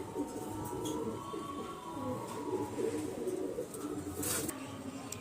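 A female pigeon coos in soft, repeated low phrases nearby, with faint background noise and brief rustling.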